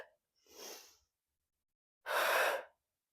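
Two breaths during a Pilates exercise, a softer inhale followed after a pause by a louder, rushing exhale, close and alone with no talking.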